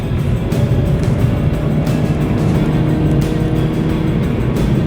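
A Mini Cooper drives offroad up a rough mountain track, its engine droning loud and steady throughout with a constant rumble from close by and no speech.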